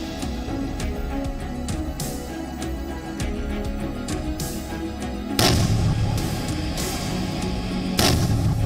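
A demonstration hand grenade detonates behind a wall during an army display at the border, giving two loud, broad blasts about three seconds apart that stand out above a steady rumbling background, with no voices.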